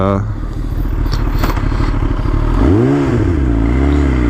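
A motorcycle's exhaust rumbles loudly and close, a steady low chugging idle that swells into a rev, with someone speaking over it.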